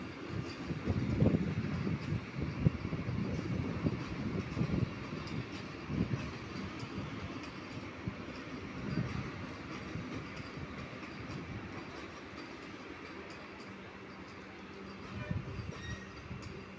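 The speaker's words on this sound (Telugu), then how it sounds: "ఇదే కొత్త నాగ్పూర్ వందే భారత్ ట్రైన్." A new Vande Bharat express on the Nagpur–Secunderabad route at Kazipet railway junction, giving a steady, loud rolling rumble of wheels and carriages with a hint of wind throughout.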